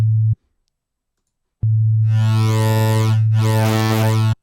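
Sytrus FM synthesizer oscillator producing a steady low tone that cuts off, returns after a short silence, then swells into a bright, sweeping, metallic timbre, heard alone.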